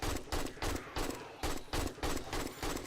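Rapid bursts of high-power 9mm gunfire in the video game 7 Days to Die, about eight loud, close shots in an uneven, fast rhythm across a few seconds, with no speech over them.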